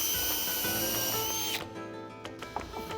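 A power drill countersinks a screw hole in a clock assembly, whining loudly at full trigger for about a second and a half, then dropping away to faint clicks and handling noises as the bit is pulled back out.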